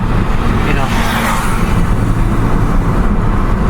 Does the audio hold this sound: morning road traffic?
yes